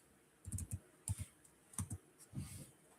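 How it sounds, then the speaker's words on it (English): Keystrokes of a Linux command typed on a computer keyboard come in short bursts of clicks with brief pauses, close and clear, with no talking. "Let's type this right here."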